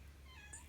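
A cat meows near its food bowl on a farm, a short, faint, high mew over low background hum.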